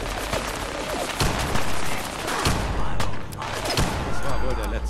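A minigun in Fallout 4 fires in long rattling bursts, dense and loud, broken by brief gaps, with combat noise around it.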